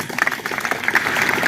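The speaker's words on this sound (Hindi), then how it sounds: "जोरदार तालियां भाई।" A school audience at a Teacher's Day celebration breaks into a brief burst of hearty clapping, a dense crowd of hands close by, lasting only a moment.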